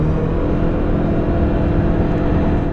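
The four-cylinder engine of a 2023 Mitsubishi Outlander PHEV drones steadily at raised revs as it spins the generator, a dense, even hum heard from inside the cabin.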